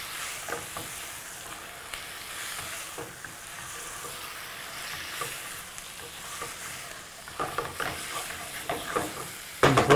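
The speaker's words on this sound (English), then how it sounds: "I want to just stir these around. Let them get nice and brown a little bit." Chicken livers frying in a pan, a steady sizzle with intermittent scraping stirs, a burst of louder clatter near the end.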